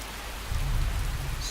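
A rainstorm in the video game Skyrim, with steady rain pattering on surfaces and a low swell of thunder rolling in partway through, close and continuous with no voices.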